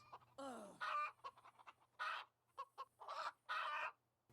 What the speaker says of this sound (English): It's hard to understand Charles, the evil chicken